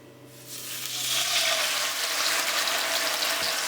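Fish dropped into a hot pot with olive oil starts sizzling loudly, a sudden rising hiss that settles into steady, close, bright frying crackle.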